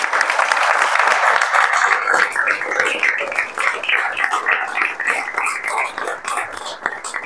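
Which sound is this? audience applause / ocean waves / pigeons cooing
audience applause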